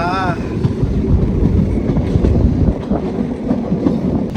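A train runs on the Kollam to Sengottai route in Kerala with a loud, close, steady rumble and rhythmic clatter of wheels on rails throughout.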